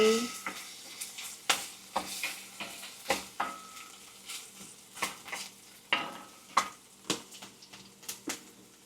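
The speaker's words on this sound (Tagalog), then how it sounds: "Ayan, saute-saute." Garlic and onion sauté in a hot pan with a steady sizzle, broken by repeated sharp scrapes and clinks of a utensil stirring against the metal at an uneven rhythm, close and fairly quiet.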